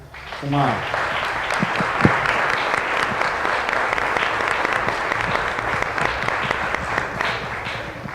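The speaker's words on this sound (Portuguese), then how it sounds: "gostaria que houvesse uma salva de palmas para ela, Dona Helena Vaz" An audience applauds at a poetry talk during a festival in São José dos Campos, steady broad clapping filling the room for about eight seconds, with a brief voice near the start and scattered louder claps.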